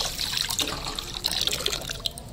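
Water runs into a deep pot in a kitchen, a close, bright splashing and gurgling stream that keeps flowing without pause, alone with no voices.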